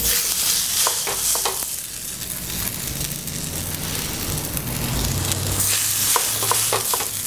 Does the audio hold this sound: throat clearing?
no